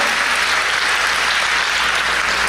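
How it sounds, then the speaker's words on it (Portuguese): A church congregation claps at a worship service, thick and continuous applause filling the room from start to finish. "Você pode aplaudir a Ele?"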